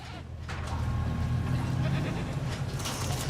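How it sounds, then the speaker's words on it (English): Goats bleat in a dinosaur park pen in the video game Jurassic World Evolution, a steady overlapping chorus of animal calls over a continuous game ambience. "Plenty of goats."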